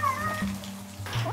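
A stray cat meows in a Korean street setting, two or three close, fairly loud mews in quick succession with faint background noise.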